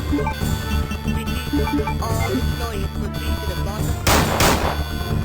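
Gunfire in the video game Resident Evil 2, with a couple of sharp, loud shots near the end over steady game music and background sounds, while someone talks.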